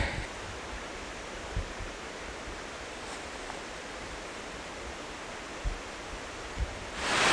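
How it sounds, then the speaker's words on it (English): A waterfall in the snowy Scottish Highlands roars as a steady, broad rush of water close by, with a few soft knocks and a louder burst of wind or handling noise at the end. "we've come up here to this waterfall"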